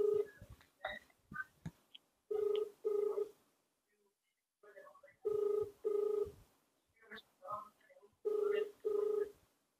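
A phone call rings out in repeated paired tones with short silent gaps between, faint and steady, while a voice speaks briefly between the rings.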